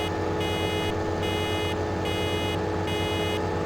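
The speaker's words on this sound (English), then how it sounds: "we're getting an alarm that we're almost full up" Nearly-full grain tank alarm in a harvester in Farming Simulator 2013, a steady repeating on-off electronic beep pulsing about once a second over a constant loud engine drone.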